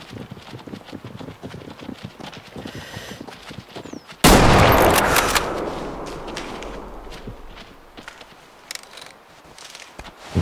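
A single loud hunting rifle shot in the hunting game Way of the Hunter rings out sharply and decays slowly, preceded and followed by hoofbeats of an animal moving over ground.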